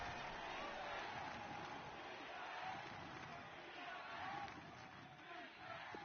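Crowd noise roars in a football video game, a steady distant wash of cheering beneath a commentator's voice.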